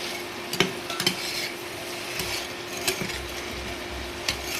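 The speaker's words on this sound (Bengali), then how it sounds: "এবার এটাকে নেড়ে চেড়ে ভেজে জল দিয়ে দেবো।" Bottle gourd being stir-fried with whole bay leaf, cinnamon and cardamom, a steady close sizzle broken by several sharp clinks and scrapes of a spatula in the pan.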